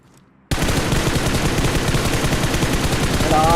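Sustained burst of automatic gunfire in the mobile battle royale game PUBG Mobile during an esports final, loud and dense, starting abruptly after a half-second of near silence and continuing without pause.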